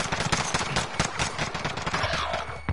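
Dense, sustained automatic gunfire from a Call of Duty: Modern Warfare multiplayer match, rapid bursts overlapping one another loud and close with sharp individual shots standing out throughout.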